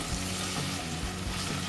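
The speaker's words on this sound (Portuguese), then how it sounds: "agora eu vou acrescentar a cebola. Vamos esperar ela refogar um pouco aqui" Chopped onion sautéing in butter in a pan after garlic, for a simple buttered vegetable dish; a steady, close sizzle and soft crackle of frying runs throughout at moderate level, with no voices.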